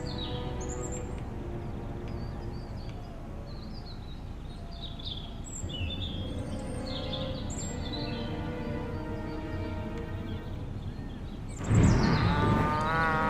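Cows mooing in the Destroy All Humans video game, with long low moos running through most of the stretch over faint bird chirps, and a louder, closer moo near the end.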